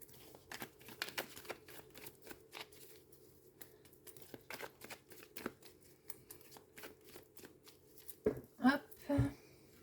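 Cards shuffled and laid down during a card reading, a run of soft close flicks and taps, ending in louder crinkling rustles as the spread is covered.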